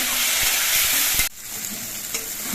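Potatoes fried with turmeric and spices in a pan give a loud, steady sizzle that drops abruptly midway, then settles to a softer frying hiss with occasional stirring clatter.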